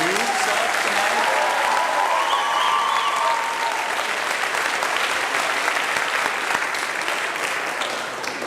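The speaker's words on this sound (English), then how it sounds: "if we could give them a round of applause" Audience applause fills an opening celebration event, a dense steady clapping from a crowd that holds loud throughout and eases slightly toward the end.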